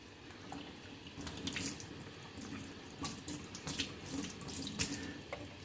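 Water runs from a sink tap into a coffee maker carafe being rinsed, a steady close splashing stream with irregular sloshes and a few louder splashes throughout.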